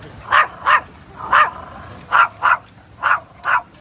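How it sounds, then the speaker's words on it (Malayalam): Puppies in Thailand bark in short, sharp yaps, about eight of them in uneven pairs and singles, fairly close, over faint background noise. "കുറേ പട്ടിക്കുട്ടികൾ."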